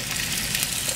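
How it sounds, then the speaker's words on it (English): Chicken sizzles steadily in hot oil, a dense close-up crackle and hiss with no voices, lasting only a moment. "You can hear some sizzle,"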